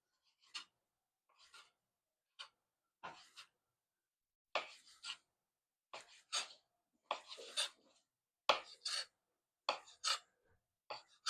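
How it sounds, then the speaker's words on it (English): Knife slicing roasted red peppers lengthwise into thin strips, giving a string of short, crisp cutting strokes in an uneven rhythm, close by with no talk. "just slice these lengthwise in little thin slices."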